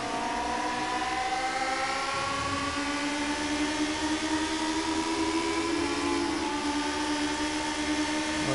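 Race car engine in the PC2/PS4 racing game held near its 10,000 to 11,000 RPM redline, a steady high-pitched whine with shifting harmonic tones, loud and continuous with no talk.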